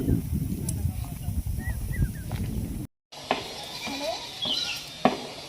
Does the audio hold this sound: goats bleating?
yes